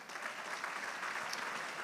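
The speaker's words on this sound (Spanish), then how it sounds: "Un aplauso al Señor" A church congregation claps steadily during a sermon, a dense, even patter of applause that stays moderately loud from start to finish.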